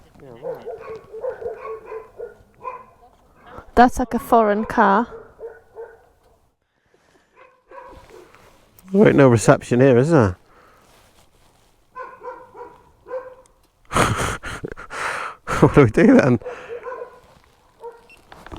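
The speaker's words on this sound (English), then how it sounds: "There are some dogs." Dogs bark intermittently in a few clustered volleys, fairly close, in rural Poland, while people talk quietly between and over the barking.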